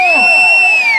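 At a bullock cart race in Avulampalli, a crowd lets out a loud, close burst of shouting, with high strained voices in a short sustained cry.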